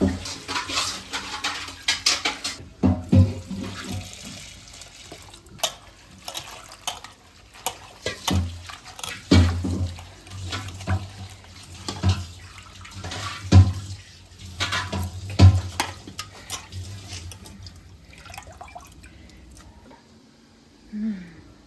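Running water splashing in a vessel as something is washed, with clanking pots and scraping utensils in irregular bursts, close by.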